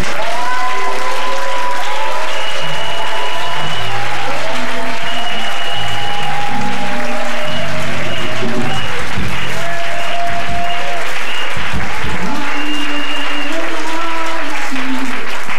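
Church congregation at a Sunday worship service breaks into sustained applause, a dense wash of clapping lasting throughout, with a few voices and tonal music faintly woven underneath.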